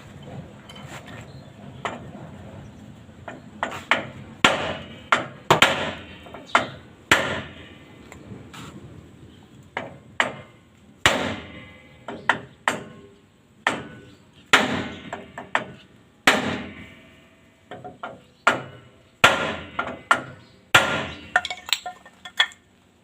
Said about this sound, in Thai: ผมจะใช้ไม้นะครับในการลอง แล้วก็ตอกไล่นะครับ